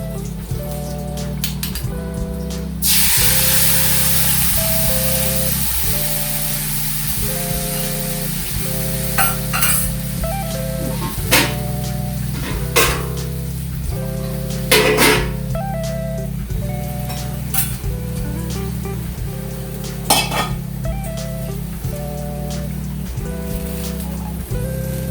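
Mustard paste with green chilli and fish frying in a hot pan, giving a continuous crackling sizzle with sharp spitting pops over a steady tonal hum.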